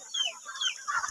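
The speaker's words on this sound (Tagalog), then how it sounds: "Perting daghanag manok ang uyuan diri" A few soft, quiet clucks from chickens nearby, short bursts spaced through a brief moment with some faint background noise.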